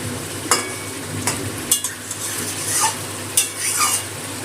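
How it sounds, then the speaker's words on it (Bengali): Raw boal fish being stirred and sautéed in masala, spatula strokes scraping and clinking against the pan every second or so over a low, steady sizzle, close and without talk. "ভালো করে কষিয়ে নিলাম একটু মশলাটা"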